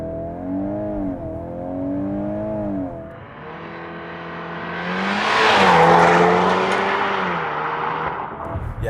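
A 2025 VW MK8.5 Golf R holding revs at a steady drone before launch control releases, then the engine surges loudly with a rushing roar and tire noise as the car accelerates hard and shifts, heard from inside.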